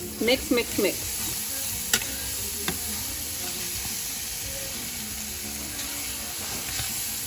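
Macaroni au gratin ingredients being mixed in a hot pan, with a steady sizzling hiss and a few brief scraping stirs near the start, fairly close, with no speech.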